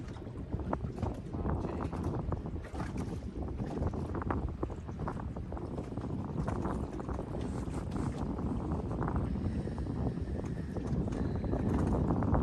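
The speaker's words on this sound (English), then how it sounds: "That wind picked up a little bit, I think." Wind gusting across open lake water, a steady rushing, buffeting noise against the microphone with faint water and boat sounds mixed in, no clear talk.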